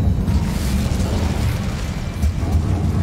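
An Incendio fire spell bursts in Hogwarts Legacy with a loud, low, rumbling roar of flame that churns on continuously through the whole moment, heavy in the low end, with no voice over it.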